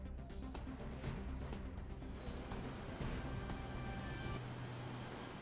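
A Delhi Metro train runs steadily through the whole stretch, a continuous rumble of wheels on rail with a high thin squeal of wheels joining partway through and holding to the end.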